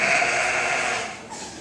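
A sheep on a farm gives one sustained, wavering bleat, close and fairly loud, that tapers off near the end.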